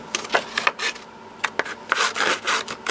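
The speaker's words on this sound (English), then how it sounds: "I'm going to go ahead and distress all of the edges of everything. I'm just going to use my Tim Holtz distressing tool." A Tim Holtz distressing tool scrapes along paper edges in short, uneven rasping strokes, close and fairly quiet, with small pauses between passes.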